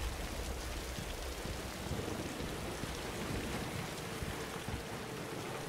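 Steady heavy rain pours throughout a stormy scene in the video game Singularity, with low thunder rumbling beneath the dense hiss and no voices.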